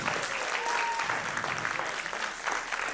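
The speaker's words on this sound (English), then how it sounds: "Big round of applause." Audience applause for the winner of a cookie baking competition final, a steady, dense clapping from a crowd lasting throughout, with a faint voice briefly underneath.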